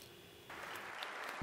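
Applause rises from the members of the US Congress for Zelensky's online address, a broad, even swell of clapping that thickens halfway through and holds steady, with a low thump near the end.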